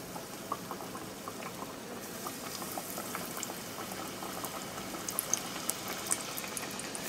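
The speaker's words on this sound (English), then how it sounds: "Now we're going to start putting in some ladyfish, frying it up." Ladyfish frying in oil heated to 350 degrees, a steady dense sizzle and bubbling that holds for several seconds, with a few sharper pops and crackles breaking through near the end.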